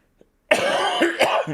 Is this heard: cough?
yes